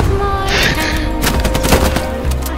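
Machine gun fire in a WWII shooter game, a loud, rapid crackle of shots and bursts packed into a couple of seconds, close and intense.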